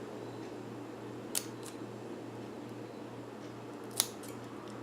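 A couple of crisp scissor snips at paper while making a gift tag, spaced a few seconds apart over a steady low hum, close and fairly quiet.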